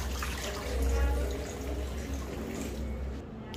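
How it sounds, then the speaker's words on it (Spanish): Water runs into the pot of a multifunction pressure cooker while a sancocho is being made, a steady filling splash that swells briefly near the start and then continues evenly. "Ahora voy a agregarle el agua."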